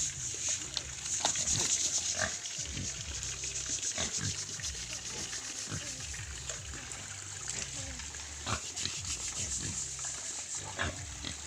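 A pig that has broken out of its pen on a Philippine farm gives repeated close grunts and snorts at an irregular pace, with rustling and shuffling around it and no talk.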